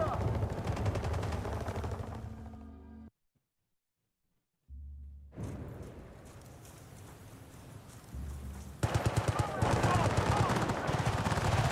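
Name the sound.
gunfire from video game Battlefield 6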